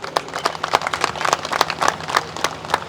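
An audience at an Independence Day gathering claps in a scattered, uneven patter of many hands, moderately loud and sustained for a few seconds without speech.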